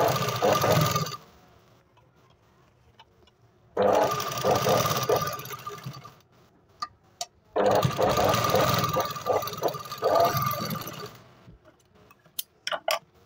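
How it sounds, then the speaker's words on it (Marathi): A sewing machine stitches a double seam on a two-piece katori blouse in three loud, fast-running bursts of rattling needle noise, each followed by quiet gaps with small clicks and fabric handling. "आता आपल्याला ह्याच्यावरती परत डबल शिलाई मारून घ्यायची"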